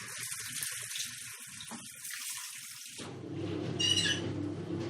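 Water runs into a 1950s washing machine, a rushing, splashing flow that starts after quieter clatter and grows louder and fuller toward the end.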